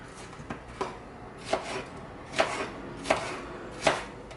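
An onion chopped with a knife on a cutting board: about half a dozen separate, moderately close thunks spaced unevenly over a few seconds against a quiet background.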